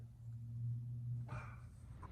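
A dog indoors gives a brief, faint bark or whine partway through an otherwise quiet stretch, sounding somewhat distant.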